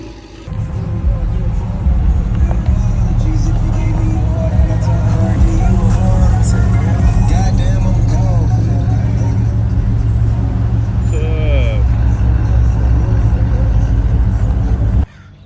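A Pontiac G8 backs into a parking spot at a casual car meet, its engine idling loud and close with a steady low rumble for most of the stretch, a voice briefly heard before it cuts off.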